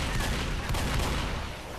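Gunfire bursts in a fast-paced shooter game, a dense continuous volley of shots with a few sharper cracks standing out, loud and close throughout.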